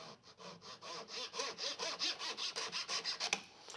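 A hand saw cuts off wooden wedges protruding from a woodworking joint, producing a close, rhythmic series of about fourteen rasping back-and-forth strokes that ends with a final snap.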